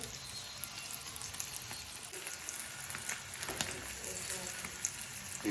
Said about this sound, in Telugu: ఎండి చేపలు ముక్కలు అయితే వేపుతుంది